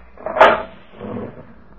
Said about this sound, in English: you may open the cell door for me